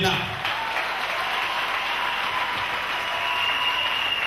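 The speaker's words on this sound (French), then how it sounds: "je veux que quelqu'un applaudisse très fort le Seigneur maintenant" A church congregation claps loudly and continuously in a dense, even roar of applause that holds for the whole stretch, with a voice faintly audible beneath it.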